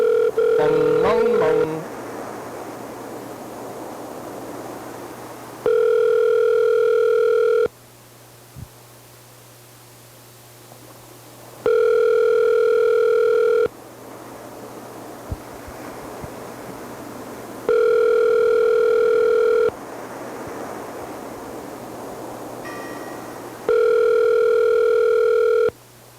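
A telephone rings back on an outgoing call, with several evenly spaced long tones separated by quiet gaps, over faint line hiss and some handling rustle.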